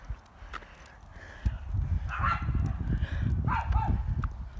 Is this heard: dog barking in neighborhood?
yes